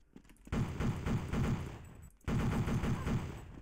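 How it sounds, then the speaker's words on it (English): A machine gun fires in Counter-Strike 1.6 on the Dreamcast, two loud sustained bursts of rapid automatic fire split by a brief pause, close and with no talking. "Let's do a machine gun."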